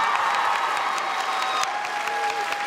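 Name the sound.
audience clapping at a convention panel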